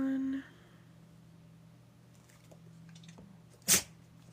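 A single short, sharp sneeze after a brief voice, standing out against a quiet indoor room with a low steady hum.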